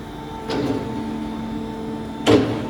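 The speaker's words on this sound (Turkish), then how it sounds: "Kapat tekrar kapıyı." A metal animal-capture cage door on a weighing livestock handling unit swings shut, with a soft clank near the start and a louder, sharper bang about two seconds later against steady machine hum.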